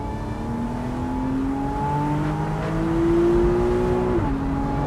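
A Porsche 911 991.1 Carrera Convertible in sports mode accelerates at full throttle, its engine note climbing steadily in a smooth, loud drone heard from inside the car. The revs drop briefly near the end at a gear change.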